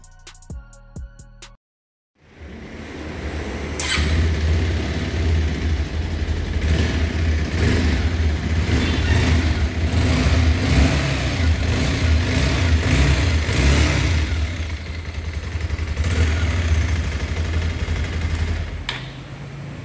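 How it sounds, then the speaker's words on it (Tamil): A BS6 Bajaj Pulsar 220 motorcycle engine rumbles loudly up close, its deep exhaust note pulsing through repeated revs for several seconds. "இப்போ இந்த பைக்கோட எக்ஸாஸ் நோட்டை கேட்கலாம்"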